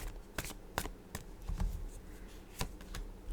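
Tarot cards riffled and shuffled in a few quick, crisp bursts, close and fairly quiet, with no talking.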